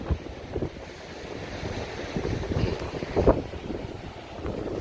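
Sea waves and cold wind on a beach in Japan, with steady wind buffeting the microphone over rolling surf, a few louder gusts and wave surges breaking through.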